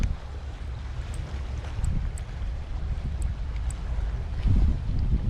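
Strong wind buffeting a boat at sea during fishing off Laem Taen, a steady low roar of gusts and water under the hull with no talk, swelling briefly louder near the end.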